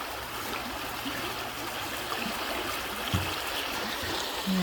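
A campsite stream flows under a bridge with a steady, close rushing and babbling, constant throughout and with no talking.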